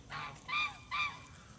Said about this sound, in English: Look at that goose.